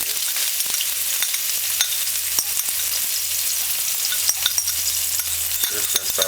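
Chopped onion sautéing in hot oil in a pan gives a steady, close sizzle with scattered crackles and pops throughout, and no talking.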